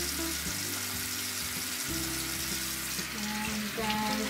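Tap water runs steadily while an eyelash curler is washed by hand beneath the stream, a close, quiet splashing hiss with small shifts as hands move through the flow.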